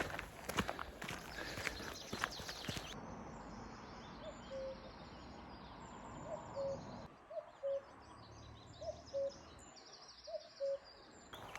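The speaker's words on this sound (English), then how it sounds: "That's the closest to a cuckoo yet." A cuckoo calls repeatedly in open Scottish countryside, a faint two-note coo returning every second or so through steady outdoor background noise, after some louder knocks and rustling at the start.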